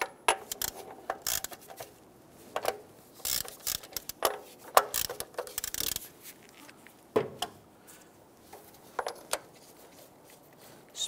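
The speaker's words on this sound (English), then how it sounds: "Along the top of our valve cover, we have 4 30 millimeter nuts. I'm gonna go ahead and break these free." Ratchet wrench breaking loose the 13 mm valve cover nuts on a 1992-1996 Toyota Camry engine, heard as several short separate bursts of clicking and metal clatter, close and fairly quiet, with pauses between them and no talking.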